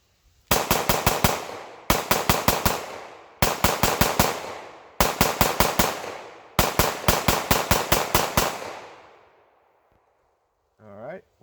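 A Glock pistol fired rapidly from a Pro Mag 50-round drum: five quick bursts of sharp, loud shots in fast strings, each ringing off with echo, then silence and a brief voice at the end.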